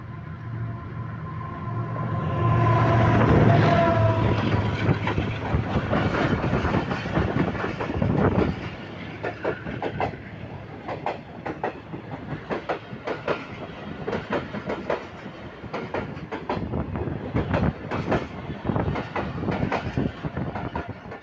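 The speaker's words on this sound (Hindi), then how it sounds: "जबरदस्त स्पीड में थ्रू पास किया है 33 अब पार्क बिजनेस एक्सप्रेस ने ring road junction railway station के ऊपर" The 33 Up Pak Business Express, a passenger express train, passes at speed through Ring Road Junction railway station after rainfall. Loud sustained rumble and rapid clickety-clack of wheels on track continue close by throughout.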